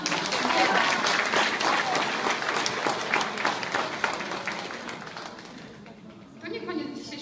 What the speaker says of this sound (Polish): Jeszcze raz brawo dla Was.